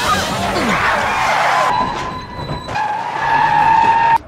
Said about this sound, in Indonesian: bus yang mereka tumpangi tiba-tiba berhenti